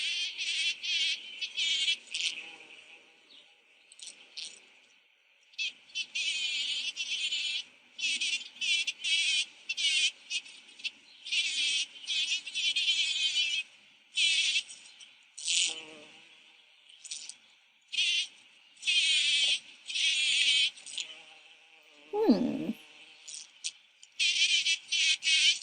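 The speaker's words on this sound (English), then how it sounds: "Let's watch a video of bees landing on flowers again." Bees buzz in repeated close bursts, the drone rising and fading as they come and go, with short quiet gaps between passes.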